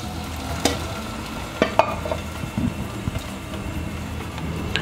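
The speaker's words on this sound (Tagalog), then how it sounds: "Haluin lang natin." Beef mechado with water being stirred in a pan, a utensil scraping and clinking in a few scattered knocks over a soft steady simmering sizzle.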